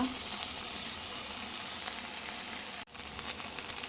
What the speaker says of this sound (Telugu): బెండకాయలు నూనెలో బాగా మగ్గిపోయినాయి